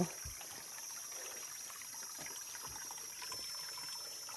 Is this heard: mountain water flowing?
yes